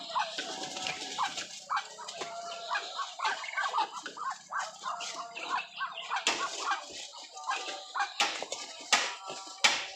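A flock of turkeys on a farm in India gobbles continuously, with overlapping rattling calls near and far and a few sharper squawks and clatters.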